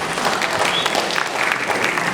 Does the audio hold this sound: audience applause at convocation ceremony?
yes